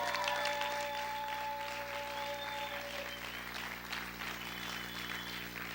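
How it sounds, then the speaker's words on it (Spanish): A church congregation claps and cheers for the Lord during a Spanish-language sermon, a continuous dense patter of many hands that holds steady for several seconds over a low, constant hum. "¿Cuántos pueden gritar y aplaudir fuerte al Señor?"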